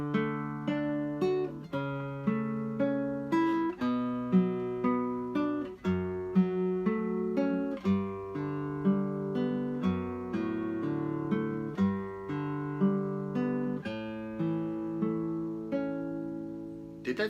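Arpeggiated chords following the Pachelbel's Canon progression, likely on piano, roll out as a steady stream of overlapping notes with no pauses, at an even volume throughout.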